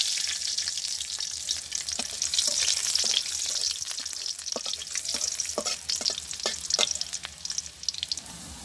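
Whole radhuni, cumin seeds, bay leaf and garlic frying in hot oil in a pan in a village kitchen, steady loud sizzling with occasional stirring clicks, close and without talk.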